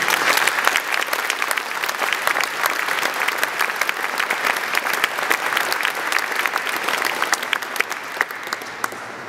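A large audience in Guildford Cathedral applauds at a youth enterprise awards ceremony, a dense, sustained clapping that keeps up steadily for several seconds, with no voices over it.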